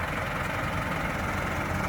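A 2023 SsangYong Korando with a G15 DTF 1.5 litre four-cylinder turbo petrol engine and six-speed automatic sits at a steady idle, a constant low, even drone with no voices.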